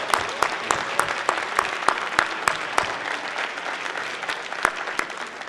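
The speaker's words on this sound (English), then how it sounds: "could we have one more big round of applause for all of our Tiger Tank semifinals?" A big round of applause from the audience at a university startup pitch competition semifinal, dense and lively clapping with a few sharp, prominent claps standing out, sustained for the whole stretch.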